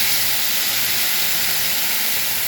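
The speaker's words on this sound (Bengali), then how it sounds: "এবার দেবো এতে অল্প করে জল।" A little water hits a hot pan of fried vegetables and potatoes, releasing a loud, steady rushing hiss of steam that holds unbroken for the whole moment.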